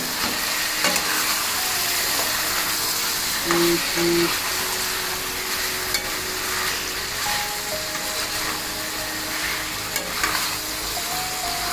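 Tomatoes fry with ginger garlic paste over a medium-high flame for mutton kasha, a constant crackling sizzle with stirring scrapes throughout, no one speaking.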